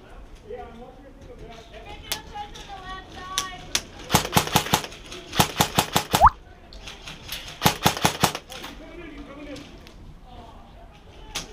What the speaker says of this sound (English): Leah was also shooting at the enemies from her location